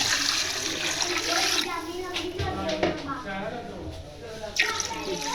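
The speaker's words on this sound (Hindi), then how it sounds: "अब मैं इसमें पानी शामिल कर दूँगी।" Water pours into a pot of cooked chicken korma during biryani preparation, a steady splashing, gurgling stream up close, with someone speaking over it.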